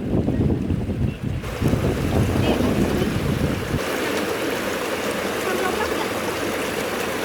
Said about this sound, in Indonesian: kita melewati sungai belerang ya